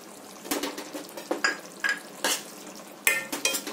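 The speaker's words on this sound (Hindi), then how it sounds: "तो इसको अच्छे से मिक्स कर दें फ्रेंड्स" A spoon stirs suran (elephant foot yam) curry in a frying pan, scraping and clinking in quick irregular strokes over a soft sizzle, close and alone.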